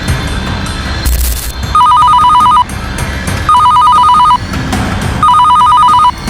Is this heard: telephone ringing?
yes